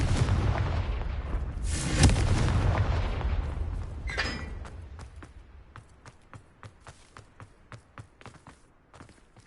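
A Confringo blasting spell bursts in the Hogwarts Legacy video game, a loud booming explosion with a rumbling tail, followed by a steady run of light footstep-like taps fading quieter.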